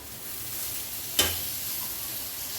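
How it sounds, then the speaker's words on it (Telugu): Boiled chana dal drops into a pan of simmering tamarind leaf curry, giving one soft plop over a steady, quiet sizzle and bubbling, with no talk. "ఇప్పుడు ఈ బా మనం బాయిల్ చేసుకున్నాం కదా శనగపప్పు ఇది కూడా వేసేసుకుందాం"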